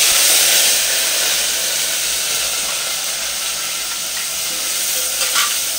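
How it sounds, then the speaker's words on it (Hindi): Whole garam masala spices frying in hot oil in a pan, a steady close sizzle and hiss that holds loud and even throughout, with no voices. "तो तेल गरम हो चुका है, अभी तेल में डालेंगे गरम मसाले, थोड़ा सा उसको ब्राउन होने देंगे"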